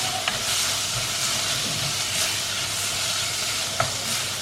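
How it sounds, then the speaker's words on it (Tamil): Mint and coriander leaves sautéing in a pan for Chicken 65 biryani, giving a steady, fairly loud sizzle with soft stirring and a couple of brief utensil taps, and no talking. "ஒரு கை புதினா அண்ட் கொத்தமல்லி கீரை அதையும் ஆட் பண்ணி நல்லா வதக்குங்க"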